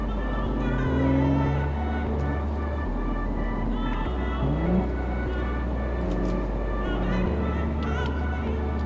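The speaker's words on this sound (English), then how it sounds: "hear a little bit more of the engine, which should be cool" A 2018 Audi S5 Quattro Coupe driving on an open road, its engine giving a steady low drone from inside the cabin that steps in pitch as the gears change, with road rumble underneath.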